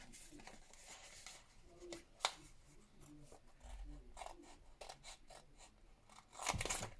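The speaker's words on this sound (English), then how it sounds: "I'm going to trim it short of the frame" Scissors trim material along the edge of a gilded photo frame, with a series of quiet close snips and crisp cuts, plus a couple of louder rustling bursts near the end.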